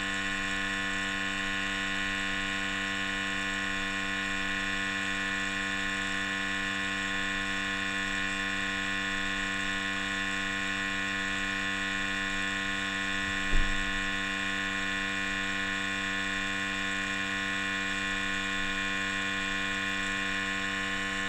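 A SENSIT SMART-CAL calibration station runs a steady purge, giving a continuous, even mechanical hum with a faint pump whir that holds unchanged throughout, broken only by one brief soft click partway through.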